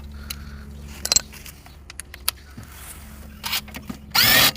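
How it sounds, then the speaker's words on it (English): Ratchet wrench with a 17 mm socket loosening a caliper bracket bolt on a 2001 Toyota Corolla in a repair job, heard as scattered clicks and clanks that build to a loud, dense burst of ratcheting near the end. "now I could just use a 17 with a ratchet"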